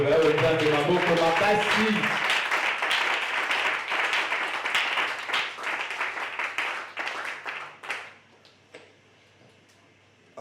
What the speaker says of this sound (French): Apprécions maintenant cette parole avec nos acclamations.